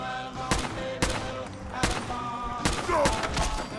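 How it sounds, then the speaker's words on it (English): Rapid 5.56 rifle shots in a video game crack out in a few quick bursts, each sharp report followed by a short echoing tail, with game effects ringing between them. "I fired off so many shots because, yeah, like, they were sprinting towards me and I was running backwards."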